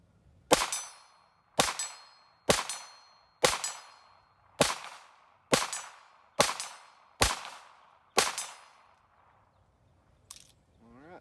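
Nine sharp shots from a Ruger MKIV Hunter .22 pistol fitted with Volquartsen parts, each with a ringing metallic clang from steel targets, fired at a steady rhythm about a second apart, then a pause and one fainter ping.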